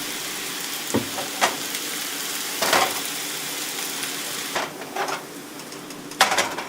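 Steady sizzling from Cantonese chow mein noodles frying crisp in a pan with oil, with occasional scraping stirs and clinks of a utensil against the metal.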